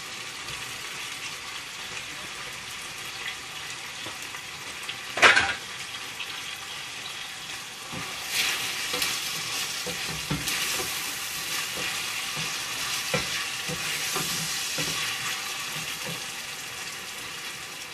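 Sardines in tomato sauce frying in a pan for a Ghanaian egg stew, a steady close sizzle with a sharp clatter of stirring and intermittent scraping and bubbling throughout.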